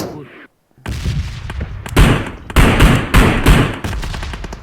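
Video game gunfire comes in bursts of loud, punchy shots after a brief silence, several rapid cracks with heavy low thumps, close and dominant.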